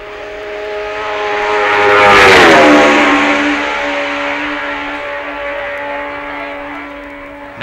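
A Gilera four-cylinder racing motorcycle screams past at the 1966 Isle of Man TT, its high-pitched engine swelling loudly as it approaches, then dropping in pitch and fading as it races away.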